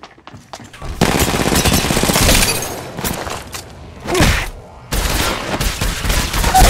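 Bursts of rapid automatic gunfire from a video game match, loud and close, with dense sustained volleys broken by brief pauses and a sharp thud before a final long burst.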